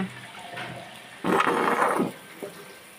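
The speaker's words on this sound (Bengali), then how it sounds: "আমার মেয়ে কত শখ করে সে আমগুলো ধুচ্ছে" Water runs while mangoes are washed: a quiet trickle, then a fuller splashing gush for under a second, then a brief softer splash before it tapers off.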